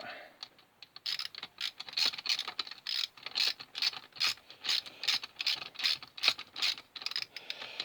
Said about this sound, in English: Just lightly tighten that down before you tighten the whole lot of them down.